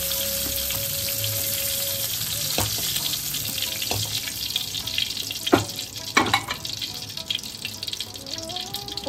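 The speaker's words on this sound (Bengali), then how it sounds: "পটলটা কিন্তু আমাদের খুব ভালো করে ভাজা হয়ে গেছে।" Pointed gourd (potol) frying in hot oil for a Bengali dolma pulao, a steady close sizzle throughout with occasional sharp clinks of a spatula or utensil against the pan.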